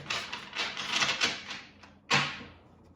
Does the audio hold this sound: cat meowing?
no